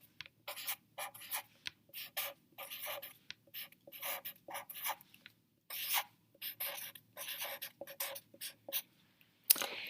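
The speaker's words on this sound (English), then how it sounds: "let's go ahead and write place value chart." Pencil writing on notebook paper, close and soft, with bursts of scratchy strokes broken by short pauses as words are formed letter by letter.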